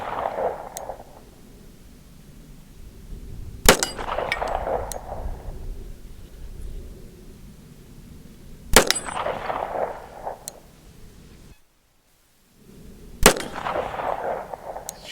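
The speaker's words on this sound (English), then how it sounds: "Again, I'm going for the big gong center mass." Springfield Armory 1911 TRP pistol firing Berry's 230gr and 185gr handloads at a large steel gong: three sharp shots spaced several seconds apart, each followed by a ringing metallic clang that fades out.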